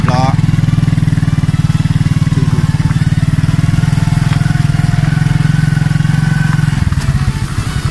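A ten-wheel truck drives along a rural road by rice paddies in Bueng Kan, Thailand, its loud, close, steady engine drone holding strong before dropping away near the end, with voices present.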